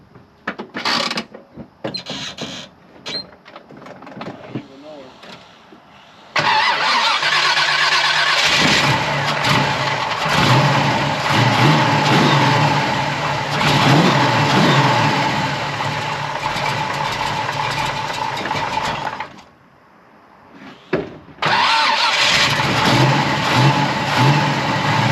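A hot rod engine cranks in short bursts, then catches and runs loud and steady with revs rising and falling, cuts out briefly, and restarts to a strong running roar.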